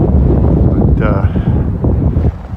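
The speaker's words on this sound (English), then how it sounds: "You can definitely tell it's windy." Wind buffets a microphone outdoors beside a river, a steady low rumble with a brief voice or tonal sound partway through.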